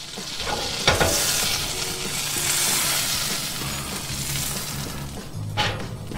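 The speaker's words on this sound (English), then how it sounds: "Make sure that gets sizzling good." Yellowfoot chanterelle mushrooms sizzle steadily in a hot frying pan, with occasional stirring scrapes and light clinks over the constant crackle.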